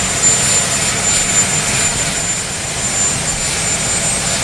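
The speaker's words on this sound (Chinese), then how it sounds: "美国国防部的直升机。" A US Department of Defense helicopter drones on as a loud, steady broadband engine and rotor roar that holds level with no talk over it.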